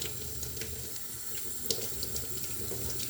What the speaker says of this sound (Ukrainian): Ми добре-добре вимиваємо проточною водою і залишаємо на деякий час у воді.